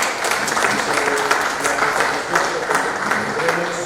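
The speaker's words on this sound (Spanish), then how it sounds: "un aplauso para ustedes por darse el tiempo" An audience at a lecture on Peruvian nobles and caciques applauds steadily, a continuous patter of many hands at a moderate level, with some speech mixed in.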